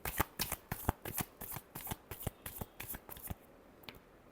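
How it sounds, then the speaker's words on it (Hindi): Tarot cards are shuffled by hand close up in a quiet room, a rapid run of crisp riffling slaps in a steady rhythm that stops abruptly near the end. "Last shuffle."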